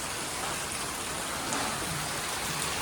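Heavy monsoon rain pours down steadily, a dense unbroken hiss that stays constant and fairly loud throughout.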